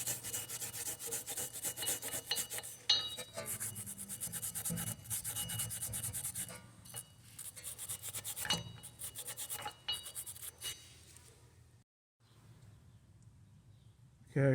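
Rear wheel hub of a 2015 Dodge Grand Caravan is scrubbed clean during brake parts replacement, a rough rasping scrape repeating in irregular strokes, close and steady, with short pauses and a final clunk.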